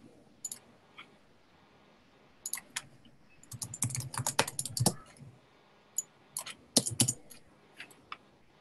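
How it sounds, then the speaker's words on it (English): Someone types on a computer keyboard in irregular bursts, with scattered single key clicks and then denser runs of tapping, close and fairly quiet, with no talk. "Are you typing someone?"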